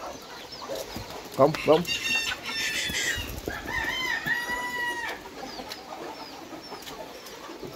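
Bantam chickens cluck and squawk nearby in short bursts, with a rooster-like call in the middle, while a person speaks briefly to them.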